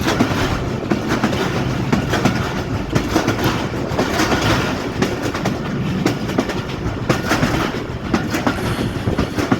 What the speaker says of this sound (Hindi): ये कर्व बहुत खूबसूरत कर्व लम्बा इकबाल एक्सप्रेस ले रही है जिसको ZC20 लीड कर रहा है